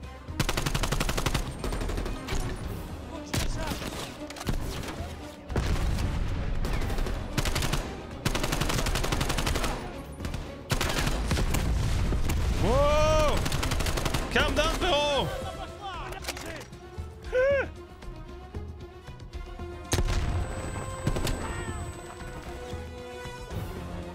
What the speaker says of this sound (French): On me tire dessus, je vois pas le gars.